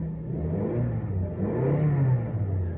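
A Ford Mondeo engine at idle is revved up and down in slow swells, a close, steady mid-pitched drone rising and falling with no talking.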